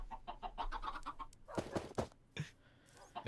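Chickens clucking in Minecraft, a flock of blocky birds giving repeated short, pitched clucks in a quick series, then a few louder, harsher squawks near the end, fairly close with no talk over them.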